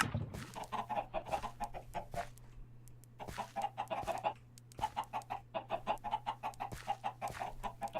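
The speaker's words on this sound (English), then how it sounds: "let's get these chickens into their pen" Minecraft chickens clucking in a steady, rhythmic stream, several birds overlapping at close range with a brief lull midway, with no talking.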